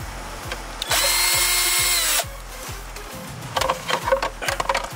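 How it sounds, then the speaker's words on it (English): A power drill whirs as two Phillips screws come out from under a car dashboard, with a steady ratcheting buzz, a loud high-pitched spin of about a second, and then scattered clicks and handling noises nearby. "Under here, you got 2 Phillips. Go ahead and remove these 2 Phillips."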